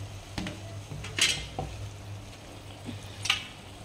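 A spoon scrapes and clinks against a pot as chopped tomato is mixed into chicken curry, with a few sharp metallic knocks over a low steady kitchen hum.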